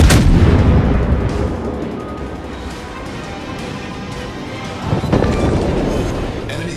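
Naval artillery fire and explosions in a warship video game, heavy booming blasts with rumbling decay, one strong burst at the start and another around the middle, dense and loud throughout.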